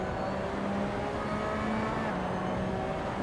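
A Porsche 911 RSR race car engine in the Assetto Corsa racing game drones at high revs, a steady buzzing whine with shifting pitch, continuous and close.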